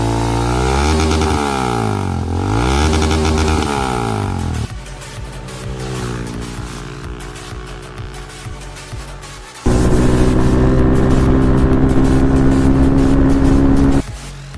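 A modified Yamaha FZ25 Monster Edition fitted with an Akrapovič exhaust idles and revs, its deep burbling note rising and falling in repeated throttle blips, then holding a loud sustained rev, close up with no voices.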